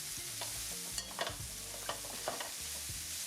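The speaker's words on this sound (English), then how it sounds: "we're gonna get onions straight into that pan that we took our turkey out of. Give it a mix in the little oil that we have left." Onions stirred and fried in a pan with a little leftover oil after pan-fried turkey breast, with steady sizzling and several scraping spoon strokes close by, no talk.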